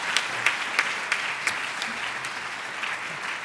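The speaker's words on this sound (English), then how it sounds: "Please give all of our mentors a great big round of applause." Audience at a town hall meeting applauds mentors with steady, moderately loud clapping punctuated by a few sharper claps, with no one speaking.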